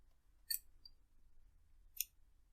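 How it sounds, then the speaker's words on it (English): Two crisp snips of scissors cutting off sewing thread, about a second and a half apart, close and clear over faint low background hum with no talking. "cut off our thread for a nice neat finish."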